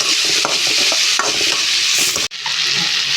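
Whole cardamom, caraway, cinnamon and cloves sizzle loudly in hot oil in a pan for paneer matar masala, a steady close crackling hiss stirred briefly, with a short break near the end.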